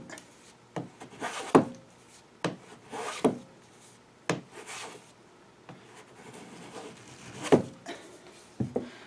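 Quick sanding strokes on a small wooden snowflake ornament, a series of close, uneven rasping rubs with short pauses between bursts, heard alone without talk.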